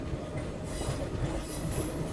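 The Malabar Express, running from Thiruvananthapuram to Mangaluru, rolls along just after leaving Kollam, a steady heavy rumble of wheels on track with faint high squeals and rhythmic clatter, heard from inside the carriage.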